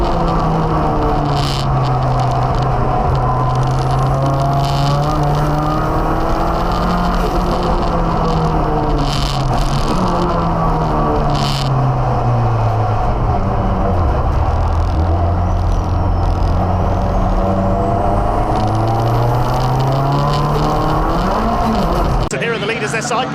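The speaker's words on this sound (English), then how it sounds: "The bright green BMW of Gary Hufford going great guns here, attacking Nick Vaughan for the lead" Racing cars at Snetterton, including a bright green BMW dueling a turbocharged Audi for the lead, roar loudly with rising and falling engine notes and passing sweeps while a commentator talks over the action.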